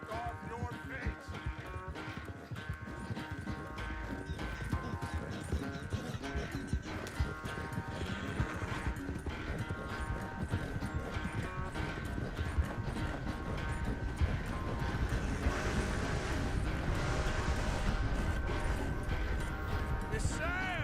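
Horse hooves clip-clop steadily in Red Dead Redemption 2, a continuous rhythmic trot with occasional whinnies over background game music and ambience.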